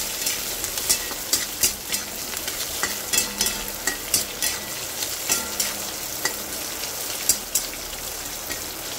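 Green chillies, dried chillies and garlic sizzle in hot tempering oil for a cauliflower curry, a steady close crackle broken by sharp pops and spatters at irregular intervals, with no voices.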